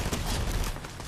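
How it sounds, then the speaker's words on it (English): Gunfire in the Fortnite video game crackles in a quick, dense burst of overlapping shots at moderate distance, with the rapid reports blurring together over about a second. "I'm shooting at him, he doesn't give a fuck"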